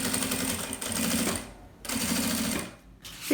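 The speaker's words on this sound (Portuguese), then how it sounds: "passa a costura e depois eu rebato" A sewing machine runs stitching a seam on a backpack, a steady fast mechanical whir in two long close bursts separated by short pauses, with nothing else heard.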